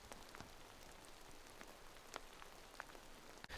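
Steady rain falling outdoors on an autumn night, a continuous soft patter with occasional sharper drips striking a surface nearby, faint and even throughout with no voices.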